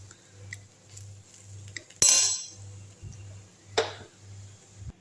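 Beetroot fried rice is stirred in a pan with a utensil, giving a few sharp metallic clinks and scrapes against the pan over a low steady hum.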